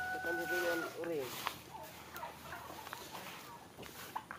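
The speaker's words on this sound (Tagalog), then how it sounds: "Pabo." Turkey gobbling at a small backyard farm with pigs, a brief warbling gobble near the start, followed by quiet farmyard sounds with some faint talk.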